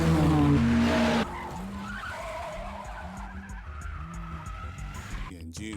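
A Toyota 86 and a GTR drift along the Mount Akina mountain pass, opening with a loud, harsh tyre-skid burst and followed by a run of shorter, rhythmic squeals and engine noise, with a voice speaking over it.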